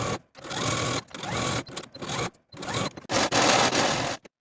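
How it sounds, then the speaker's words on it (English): A serger overlock machine finishing the side seams of a blouse, running loud and close in several sustained bursts separated by short pauses, its rapid mechanical whir steady throughout, with no talking. "Repeat the same process for your other side seam and serge your seams to finish."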